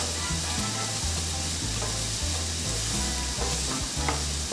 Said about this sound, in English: We're just gonna allow this to saute just a little bit.